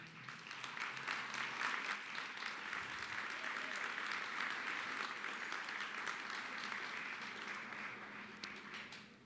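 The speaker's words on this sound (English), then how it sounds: "Would you please stand and give them a round of applause?" Award judges for integrity, spark, torch and ethics honors receive a sustained round of applause at a Better Business Bureau ethics awards ceremony in Dayton, Ohio, steady dense clapping filling the room for about nine seconds, with faint voices mixed in.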